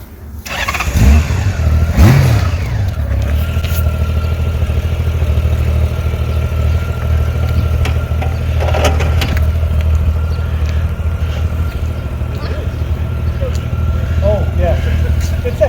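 Honda Goldwing motorcycle, a heavy touring bike, starting up and pulling away, its engine a steady close rumble throughout with a brief louder rev near the start while people talk nearby.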